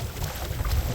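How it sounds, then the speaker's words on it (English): Wind buffets the microphone while a kayak is paddled off the Little Wicomico near Smith Point, Virginia, a brief steady low rumble with faint water sounds beneath. "Of course the wind picked up."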